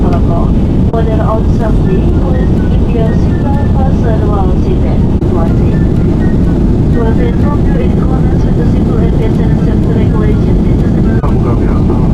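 Loud, steady roar of jet engines inside an airliner cabin at cruising altitude on a Lion Air flight, a constant low drone with voices talking faintly underneath.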